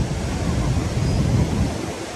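A loud, continuous roar of rushing water, dense and unbroken, from a nearby waterfall with cold wind buffeting the microphone, on the road from Pokhara to Upper Mustang.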